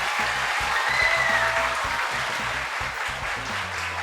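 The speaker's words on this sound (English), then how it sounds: "I need louder clap for Cambodia." Audience applause for Cambodia at a cultural diversity talk, a steady wash of many hands clapping under low background music.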